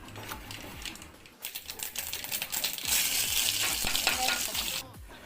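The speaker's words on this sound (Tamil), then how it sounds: "தாளிக்கிறதுக்கு ஆயில் ஊற்றியாச்சு. இப்போ கடுகு போட்டுக்கலாம்." Mustard seeds pop and sizzle in hot oil for tempering egg kulambu, with bursts of crackling that build into a dense, loud sizzle before fading out at the end.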